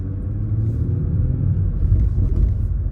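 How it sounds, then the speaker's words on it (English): A Toyota GR Supra with a BMS strut brace rolls over speed bumps at an angle, giving a low, steady engine and road rumble from inside the car. "hit these speed bumps at an angle and torque the chassis"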